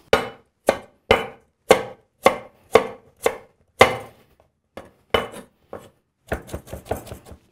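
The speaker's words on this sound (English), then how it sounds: "Just a quick cut, quick chop." Knife quickly chopping carrot on a board, with a run of about eight crisp evenly spaced chops, a short pause, then a faster burst of cuts, close and loud with no talking.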